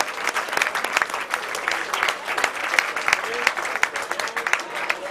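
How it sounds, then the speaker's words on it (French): Applause from a sports crowd for the Étendard de Brest team after a match, a steady dense clapping that holds for the whole stretch at moderate loudness with no talk over it. "je vous demande, mesdames et messieurs, de bien vouloir les applaudir"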